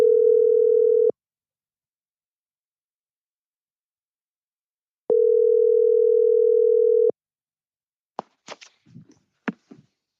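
An outgoing telephone call rings out in two long steady tones separated by silence, followed by faint clicks and handling sounds as the line connects.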